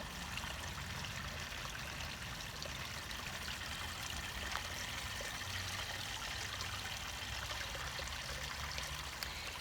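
Water trickles down a small stream into a backyard pond, a constant close, even splashing and gurgling with no voices.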